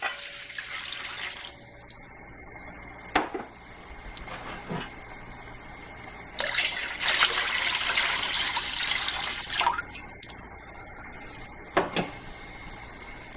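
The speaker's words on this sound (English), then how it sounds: "what you're going to do is add another quart and 2 cups of water." Water pouring into a pot while making a mint julep, a steady running stream with a few louder surges and splashes, close by and free of talk.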